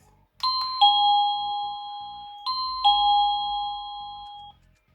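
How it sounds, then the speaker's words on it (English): A two-tone electronic chime from an Energizer wireless plug-in doorbell rings twice in quick succession, clear and close, with each pair of tones ringing out before fading. "I think it makes more sense, like a normal doorbell."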